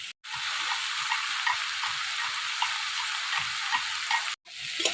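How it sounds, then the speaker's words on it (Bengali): Vegetables sizzle in a kadai, a steady soft hiss of frying with faint stirring, fairly quiet and close, briefly cutting out at the start and end. "এই দেখেন সবজি কত সুন্দর করে ভাজা হয়ে গেছে, কড়াইতেও একটু লাগে নাই।"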